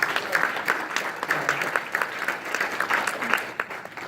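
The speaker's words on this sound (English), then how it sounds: "So I think that deserves a big round of applause" Audience applause at a corporate diversity talk, a steady burst of many hands clapping at moderate loudness that fades slightly near the end, with no voice over it.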